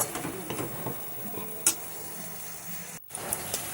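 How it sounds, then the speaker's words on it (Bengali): A potato and cauliflower filling for singara cooks in a pan, sizzling quietly while a utensil stirs and scrapes with irregular clinks, one sharper knock, and a brief silent gap near the end. "ঢাকনাটা খুলে আবার আমি ভালো করে নেড়ে চেড়ে আবার আমি একটু ভালো করে মিশিয়ে দেব"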